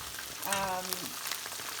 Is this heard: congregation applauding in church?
no